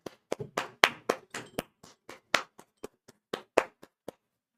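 Scattered claps from a small gathering at a Vidyakul education event, separate sharp hand strikes in an irregular rhythm that thin out toward the end, fairly close and isolated, with no talk over them.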